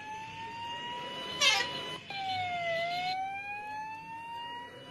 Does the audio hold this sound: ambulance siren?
yes